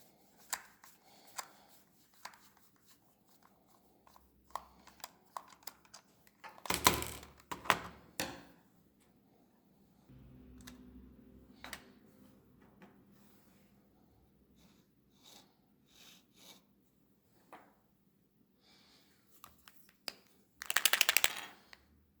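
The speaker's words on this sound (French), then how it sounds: "On va maintenant pouvoir ouvrir la souris et découvrir la bille et les rouleaux" A ball computer mouse is opened by hand to expose its ball and rollers, giving faint, close plastic clicks, taps and rattles, with two louder rustling bursts of handling.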